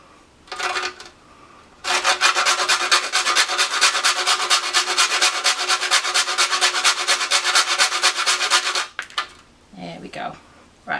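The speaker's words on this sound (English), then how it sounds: "So we're going to grind a half a nutmeg" Half a nutmeg rasps against a grater in fast, even back-and-forth strokes, loud and close, a steady scratching run of about seven seconds after a brief first pass, with a few clinks afterwards.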